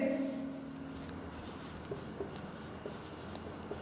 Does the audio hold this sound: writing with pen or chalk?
yes